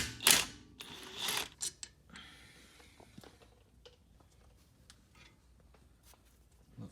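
Sharp mechanical clicks and a rough burst of tool noise as a ratchet works a 14 mm bolt on the brake of a 1992 Honda, the ratcheting strong at first then thinning to scattered small taps and clinks.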